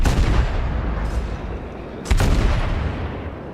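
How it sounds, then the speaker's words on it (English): Naval gunfire from the World of Warships game: a steady roar of rumbling cannon fire with one sharp, loud blast about two seconds in, then continuing heavy booms. "I'm just going to hold the fire button down now and just keep track whilst we turn and cap"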